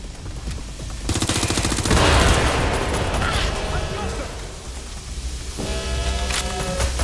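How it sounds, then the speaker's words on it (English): Video game gunfire in Watch Dogs Legion: dense, sustained automatic weapon bursts rattle loudly for several seconds, mixed with game music and effects, with no voices in the clip. "Fire! They're shooting!"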